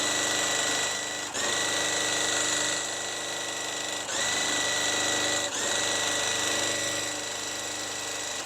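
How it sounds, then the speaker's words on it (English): A sewing machine runs steadily at close range, sewing a quilt, its rapid mechanical whir continuing with a few brief slowdowns and restarts. "bring you back to the sewing machine and we're going to sew it."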